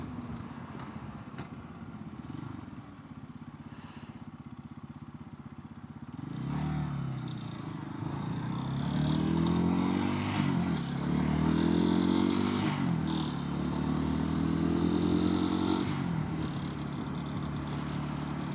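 A motorcycle rides along a Texas road, its engine droning steadily and swelling as it accelerates through the middle, with wind and road noise throughout.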